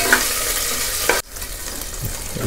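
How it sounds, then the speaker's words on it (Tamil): Peeled shallots, green chillies and curry leaves sautéed lightly in a pan for broccoli soup: a bright, close sizzle with stirring that drops abruptly halfway, leaving a softer frying hiss and faint utensil sounds. "உரித்து வச்ச சின்ன வெங்காயம், பச்சை மிளகாய், கருவேப்பிலை. இப்போது இதை லைட்டாக வதக்குங்க."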